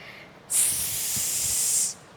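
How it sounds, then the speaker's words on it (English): A loud, sharp snake hiss rises suddenly, holds steady for over a second, then cuts off. "Its hiss was so loud that even the mountains shook."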